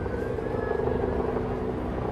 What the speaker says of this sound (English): we can already feel the presence of some helicopters heading towards St. James's Park